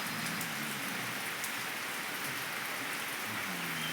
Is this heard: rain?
yes